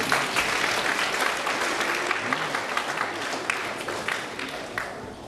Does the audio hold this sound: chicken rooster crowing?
no